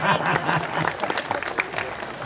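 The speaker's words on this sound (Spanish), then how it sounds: "Fuerte el aplauso." Audience applause at an Ecuadorian festival in Croton Point, Westchester, New York, a dense burst of clapping from a crowd, loud and steady throughout with some voices mixed in.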